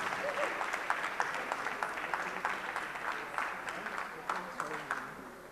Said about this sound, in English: I suggest we give them a big clap then.